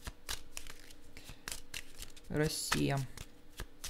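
Fortune-telling cards shuffled by hand, a soft repeated riffling patter running under a woman's speech.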